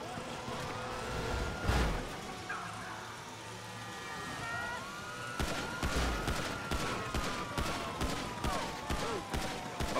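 Rapid gunfire in GTA V during a police chase after a jewel heist, with bursts of shots cracking repeatedly over car engine noise and sirens, loud and close.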